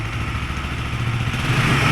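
A Honda CBR motorcycle engine runs steadily close by, its throttle opened so the revs climb slightly toward the end, with no talking over it.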